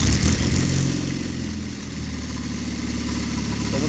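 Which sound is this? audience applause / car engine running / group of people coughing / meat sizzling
car engine running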